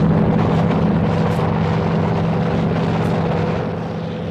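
A heavy, continuous rotor and engine roar from an approaching Marine H-34 military helicopter fills the scene, loud and dense, easing off slightly toward the end.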